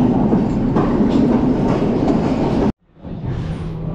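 At a station in Sri Lanka, a train rumbles and clatters loudly close by with steady rolling wheel noise. It breaks off abruptly into a moment of quiet, then a softer rumble rises again.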